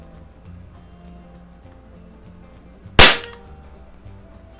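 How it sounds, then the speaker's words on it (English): A Crosman Pellmaster 700 .22 caliber CO2 pellet rifle fires a single sharp, loud crack that decays quickly, standing alone against quiet background hum. "So I'm going to shoot at the upper right hand target there."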